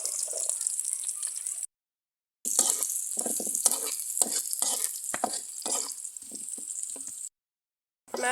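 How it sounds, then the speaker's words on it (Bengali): Onions frying in a pan while lentil dal cooks nearby, a loud continuous sizzle broken by stirring scrapes, cutting out briefly twice. "আর এখানে পেঁয়াজ ভাজা হচ্ছে।"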